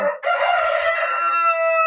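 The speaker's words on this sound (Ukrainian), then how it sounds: "Тут ці лише дві курки і кугут, а там самі кугути." A rooster crows loudly and close by among a flock of roosters, one long drawn-out cock-a-doodle-doo that rises and then holds its pitch.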